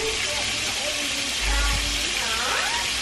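Buffalo wing sauce mixture with paprika, garlic powder and chili powder sizzling in a pan while being stirred, a steady loud hiss with a low scraping thump in the middle.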